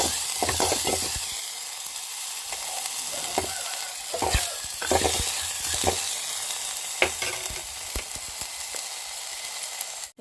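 Chopped carrot and potato sizzle in a hot pan while being stirred, a steady frying hiss broken by scraping spoon strokes, close and loud with no voices.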